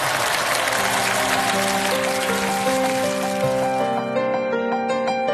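A live music show audience applauds a singer before a Cantonese song; loud, dense clapping fills the first few seconds, then fades as the music begins.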